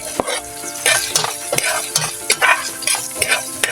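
Garlic frying in a hot pan while being stirred, loud sizzling broken by repeated scraping and clanking strokes of a utensil against the pan.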